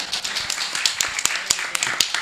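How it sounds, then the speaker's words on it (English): A small group of people clapping during a podcast recording, a loose scatter of claps over about two seconds with light background noise. "yes, please clap."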